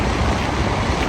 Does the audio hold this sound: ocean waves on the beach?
yes